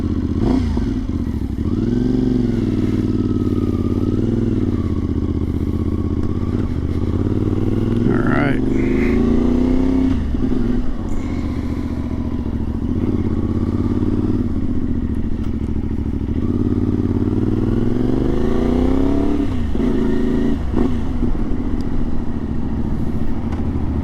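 A CFMoto Ibex 450 motorcycle rides along with a loud, steady engine drone that rises and falls through gear changes and revs, with wind and road noise close throughout.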